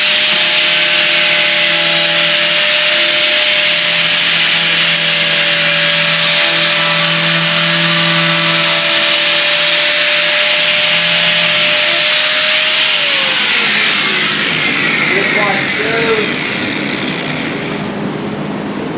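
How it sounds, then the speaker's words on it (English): A small DeWalt grinder runs loud and close as it cleans up a fiberglass mold, with a sustained high whine and abrasive rasp that spins down near the end, leaving rough scuffing noise. "you can see how we can come in with this little DeWalt and just clean up"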